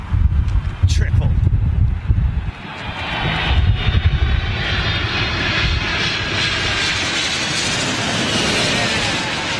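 United airliner jet engines roar past at windy Heathrow, a loud pass that fades into a long, steady rumble while gusts buffet the microphone and someone talks excitedly over it.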